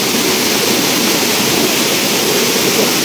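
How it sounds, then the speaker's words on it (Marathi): A waterfall gives a steady, dense roar of rushing water. It is loud and close and keeps an even level throughout, with no voices over it. "धबधबा."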